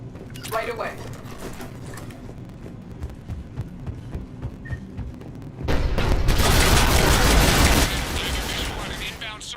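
Cannon fire in the Mass Effect video game, heard as scattered booms and crackling bursts, then a loud sustained roar of blasts near the end, with game voices talking over parts of it.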